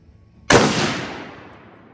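A single sharp .243 youth rifle shot cracks close by at a sighting-in session, its report decaying over about a second and a half of quiet surroundings.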